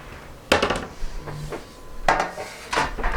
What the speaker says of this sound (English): what I'm going to do is get my pan out